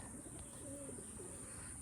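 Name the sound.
pigeons cooing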